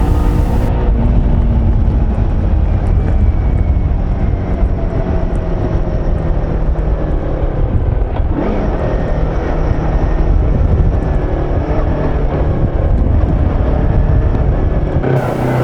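A motorcycle with a bent, hand-straightened gear shift pedal rides along a snowy rural road, its engine droning steadily and loudly up close with wind rush, a brief dip in the middle before the ride continues.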